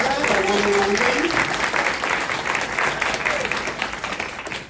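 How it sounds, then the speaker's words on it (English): A room of attendees at a children's advocacy conversation event gives a round of applause, a dense, steady wash of clapping from a sizeable crowd that swells at first and then slowly thins out. "Can we have a round of applause for Lynn Marie Cabrera, the one and only?"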